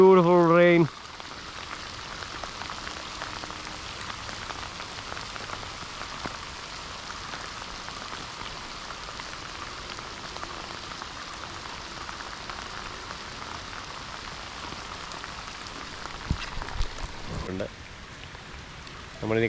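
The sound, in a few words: rain falling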